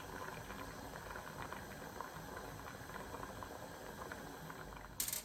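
A quiet, steady bubbling of gungo peas simmering in a pot of water on the fire, soft and continuous, with a brief louder clatter near the end.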